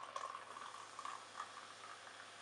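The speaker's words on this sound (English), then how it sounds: "Got my glass here. So let's pour it in." Peach-flavored Rockstar sparkling water poured from a freshly opened can into a glass, a soft, steady fizzing stream with small splashy bursts, quiet and close with no talking.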